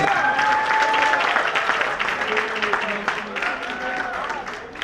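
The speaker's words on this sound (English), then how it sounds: "Give them a round of applause" A crowd applauds at a ribbon cutting for a student-athlete wellness center, with steady clapping and a voice speaking over it throughout.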